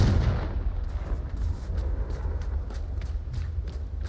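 An explosive fire spell cast in the video game Hogwarts Legacy, one booming blast at the start fading into a rumbling tail, followed by a run of lighter repeated thuds.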